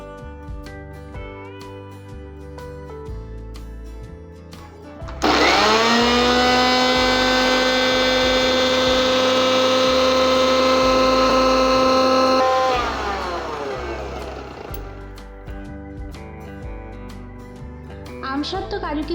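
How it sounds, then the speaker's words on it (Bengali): An electric mixer blender grinds dried mango with cashews and raisins for a mango lassi. The motor starts abruptly, whines loudly and steadily for about seven seconds, then spins down. Talking comes before and after. "প্রথমে আমি আমসত্ত্ব আর কাজু কিশমিশটা একটা মিক্সির ব্লেন্ডারে ব্লেন্ড করে নেব"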